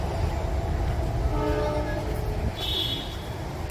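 A metro train passing near the Narrow Gauge Rail Museum in Nagpur: a steady rumbling rush of rolling wheels, with a short tonal horn midway and a brief higher whistle near the end.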